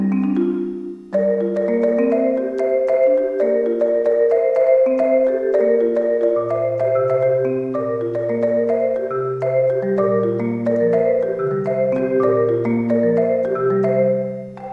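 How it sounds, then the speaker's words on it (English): A marimba from the BBC Symphony Orchestra Discover sample library plays a continuous melodic passage for about fifteen seconds, with warm, rounded mallet notes that ring and overlap, and low bass notes entering partway through. "Marimba, wow."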